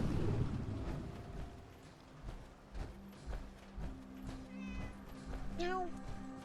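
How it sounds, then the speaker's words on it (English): A cat in Fallout 4 meows near the end, a couple of short rising calls over soft game ambience, footsteps and faint background sounds. "Cat."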